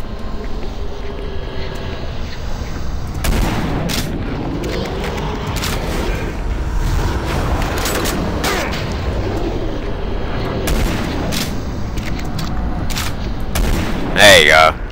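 Repeated gunshots in the sci-fi shooter Doom 3: Resurrection of Evil, sharp cracks scattered over a constant droning game ambience, with someone talking over the action.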